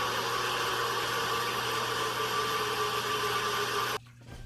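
The Ambush monster approaching in the Roblox game Doors: a loud, steady roaring drone with a harsh, noisy rumble holds for about four seconds, then cuts off abruptly to quieter residue.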